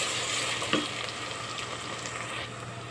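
Onion frying in hot oil gives a steady, close sizzle that continues through the whole clip, with one brief stirring clink early on and no voices.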